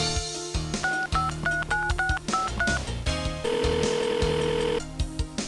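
Telephone keypad tones dial out in the Spelvin Goolie video game, a quick run of about eight short beeps followed by a long steady ringing tone over game music.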